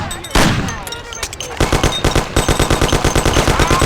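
Rapid automatic gunfire from the 1930s gangster video game Mafia, a loud sustained burst of evenly spaced shots after a brief scuffle of movement and a couple of separate bangs.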